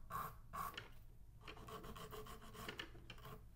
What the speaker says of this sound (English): it sounds like I'm sawing something. I'm just gonna go in and lightly shape the nail.